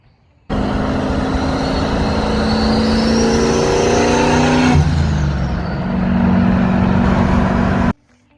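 A Chevy pickup engine revs hard and close for several seconds, climbing in pitch toward its rev limiter, dipping briefly, then holding a loud steady roar before cutting off abruptly.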